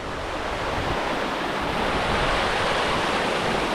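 Running water from a stream on Dartmoor, a steady broadband rush that fills the whole stretch at an even, fairly loud level with no voices.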